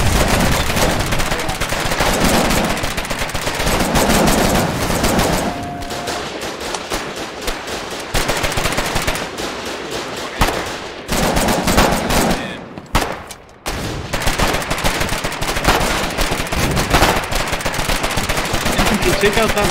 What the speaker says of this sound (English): the howitzers are firing